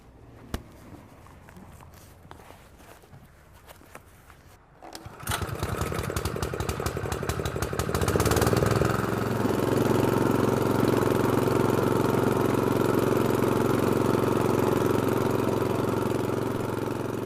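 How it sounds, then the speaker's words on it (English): Rotavator engine breaking up and aerating dry garden soil before laying turf; quiet clattering start, then the motor rises after about five seconds into a loud, steady, droning run that holds to the end. "use a rotavator to break up and aerate the soil"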